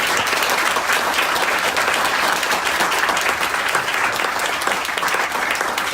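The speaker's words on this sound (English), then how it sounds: "A round of applause" A book launch audience applauds steadily, dense sustained clapping throughout at full volume with no talk over it.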